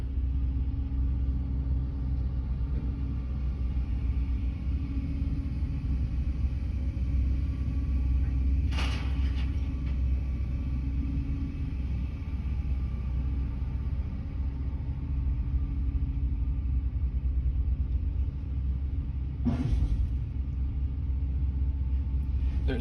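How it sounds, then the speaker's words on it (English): A truck loaded with demolition rebar and steel from an old silo rolls slowly onto a weighing scale, a steady low engine rumble throughout with two brief sharp clanks, close by. "Let's drive up on the scale."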